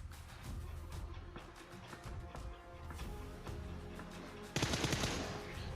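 Automatic gunfire from a DP-28 or Mini14 rings out in a battle-royale style video game, with rapid bursts of shots throughout and a louder, harsher burst near the end over continuous game ambience.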